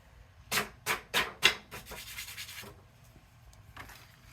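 Embossing powder being rubbed off a craft surface, about four short, distinct scrubbing strokes in quick succession, then softer, lighter rubbing that fades out. Close and fairly quiet, no talking.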